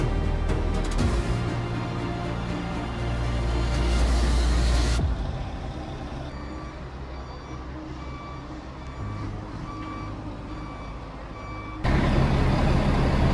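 Large buses idle and rumble close by outside a roadside restaurant in Colombia, with a steady low engine drone, repeated reversing beeps and a louder surge at the start and end.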